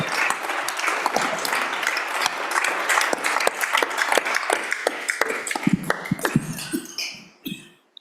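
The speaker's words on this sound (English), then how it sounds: "I'd like to give them all a round of applause." Sustained applause from a crowd in a state Senate chamber rises steadily, then thins into scattered individual claps and taps before fading out near the end.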